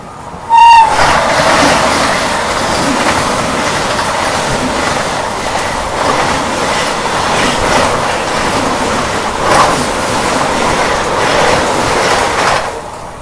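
The Humsafar Express runs at high speed, its continuous loud rumble and wheel clatter filling the interior, with a brief horn-like tone near the start.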